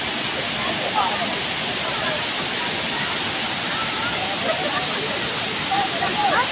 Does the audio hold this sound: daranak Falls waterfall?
yes